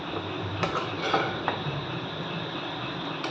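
Cashews, raisins and nuts stirred in a frying pan over low flame, a steady sizzle with scattered scraping and clinking of the spatula against the pan, close and fairly quiet.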